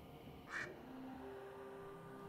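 A short burst of duck-like quacking from a show, one bright squawk standing out against a quiet, low background hum.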